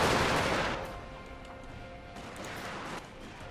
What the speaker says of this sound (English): And here we have the Gatling guns, giving them a parting goodbye.